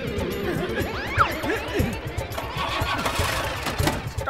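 A cartoon motorbike engine in Motu Patlu sputters and tries to start with rough, choppy bursts and clatter, mixed with voices and other cartoon sound effects.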